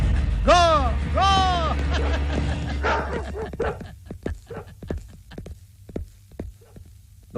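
Large dogs bark in a quick burst near the start, loud and close over a low steady hum, then trail off into scattered softer sounds.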